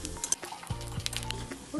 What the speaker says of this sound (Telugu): పల్లీ కొంచెం ఫ్రై అవుతున్నప్పుడు ఎండుమిరపకాయలు కూడా వేసేద్దాం.